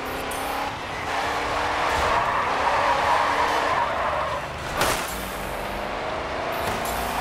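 A car drifts through traffic in the racing video game GRID 2, engine roaring loud and close while tires squeal in a sustained skid, with a sharp burst near the end.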